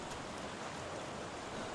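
Steady rain pours down in the video game Back To The Dawn, a dense, even hiss of falling water that holds constant and alone, with no voices over it.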